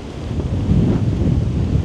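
Strong gusty wind on the Dutch coast at Sint-Annaland, a steady loud roar buffeting the microphone for the whole moment with no voices.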